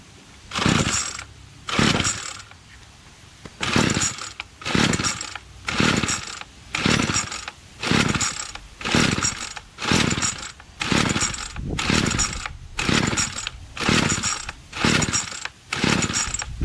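A Bolens MTD BL-160 25cc two-stroke weed trimmer with a freshly cleaned carburetor and low compression is pull-started on choke, giving about fifteen rhythmic rasping starter-cord pulls that whir without the engine catching.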